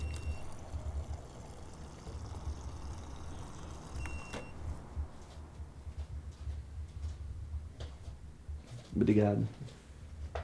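Water is poured for a guest indoors, a short trickling pour rising near the end after a stretch of quiet room noise, with people speaking Portuguese around it.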